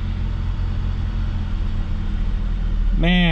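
A repaired Chevy Colorado engine idles with a steady low rumble and a slight shake, close and continuous, before a voice briefly cuts in at the end.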